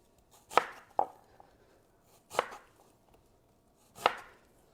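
A knife chopping onions on a cutting board, four sharp, separated thuds spaced irregularly, close and clear with no talk over them.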